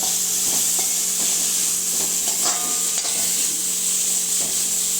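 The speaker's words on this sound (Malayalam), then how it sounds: "അതുപോലെ ഒരു ചെറിയ തക്കാളി അരിഞ്ഞത് അത് ചേർക്കുന്നു ഒന്ന് നന്നായിട്ട് ഇളക്കി കൊടുക്കുക" A spoon stirs prawn roast with chopped tomato and chilli powder in a pan, scraping rhythmically over a steady background sizzle, with occasional clinks against the pan.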